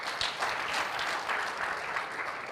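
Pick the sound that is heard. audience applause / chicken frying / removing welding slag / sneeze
audience applause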